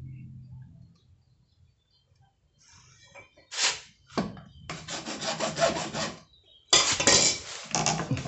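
Quiet handling noises, then bursts of rasping back-and-forth sawing through PVC pipe, close and fairly loud, in several separate strokes with short pauses.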